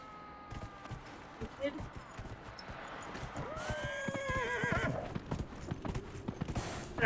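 Hooves clip-clop steadily on a road in the fantasy video game Dragon Age Inquisition as a horse pulls a buggy, with a horse whinnying partway through and a voice talking quietly over the game.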